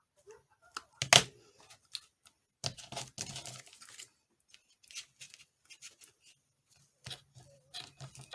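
Scissors snip through paper while making luggage-style journal tags, giving short scattered crisp cuts and rustles with quiet pauses between them, close and fairly soft.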